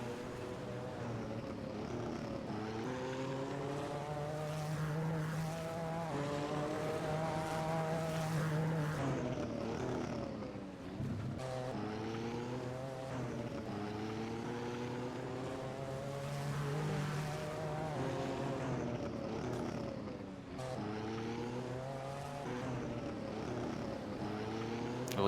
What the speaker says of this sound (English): it's gonna be Mila, the one to complete the race for MD Racing